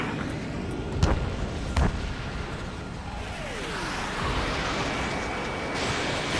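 A missile launch in Ace Combat 7 is heard as a few sharp thumps followed by a rising whoosh over a steady jet engine roar, all under a continuous dense cockpit din.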